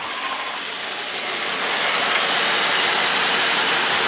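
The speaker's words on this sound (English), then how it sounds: "Okay, cooling fan is blowing" Jeep Pentastar V6 running with its electric cooling fan blowing, a steady loud rushing whoosh close by that swells a little halfway through and then holds level.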